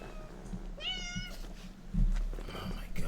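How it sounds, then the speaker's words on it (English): A cat gives one clear, close meow with a wavering pitch, while a person speaks faintly in the background. "Can you stop meowing?"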